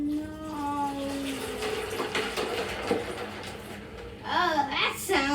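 Water pours and splashes steadily into a pitcher already holding ice, nearby, with a voice and other voices chiming in over it.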